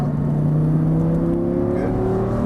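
Loud, close engine of an Audi R8 accelerating out of a turn on a Las Vegas race track, pitch climbing steadily in a continuous roar.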